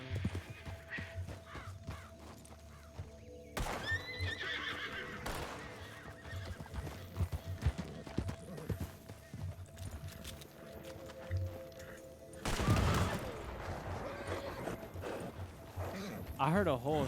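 Horse hooves pound and a horse whinnies amid game sound effects in the Red Dead Redemption role-play game RedM, while people talk over the action.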